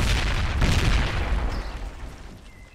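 A grenade blast in a video game lands as a loud, rumbling boom right at the start, then decays gradually over about two seconds.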